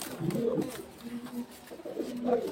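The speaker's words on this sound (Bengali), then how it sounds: "এখানে কিন্তু নিচে আরো অনেক কবুতর আছে।" Several pigeons coo in a pigeon market shop, with low rolling coos rising and falling in repeated phrases, close by and moderately loud, over a faint room murmur.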